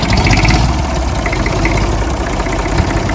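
A Fordson Dexta tractor's engine idles close by, a loud, steady, even chugging throughout.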